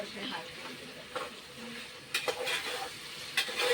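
Soybeans and tomato fry in a pan, giving a soft continuous sizzle with scattered stirring scrapes and a few sharp clinks of a utensil against the pan.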